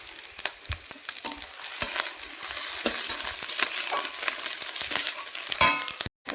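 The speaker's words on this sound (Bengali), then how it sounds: "এখানে আমি অল্প করে হলুদ দিয়ে দেবো, দিয়ে আর একটু ভালো করে ভেজে নেব।" Lote fish frying with turmeric in a pan, a continuous crackling sizzle with scattered sharp pops and spatula scrapes, fairly loud and close, with no talking.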